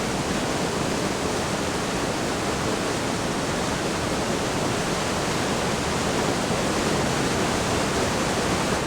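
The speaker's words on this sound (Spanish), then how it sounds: "Sus feroces aguas labran la piedra y crean el llamado Cañón" Santa River's fierce waters rushing through the Cañón del Pato canyon, a steady, dense, broadband roar without pauses or variation, loud and close, no voices.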